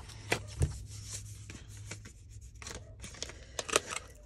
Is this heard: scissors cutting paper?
yes